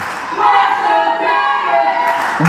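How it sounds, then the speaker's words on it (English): A large wrestling crowd roars loudly and continuously at a live show, a dense sustained wash of cheering and shouting with no single voice standing out. "Listen to this crowd!"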